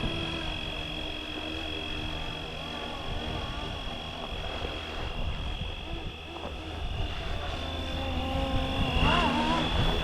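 A Fly Wing RC AirWolf helicopter flies nearby with a continuous high whine and rotor buzz, steady and loud throughout and swelling slightly toward the end.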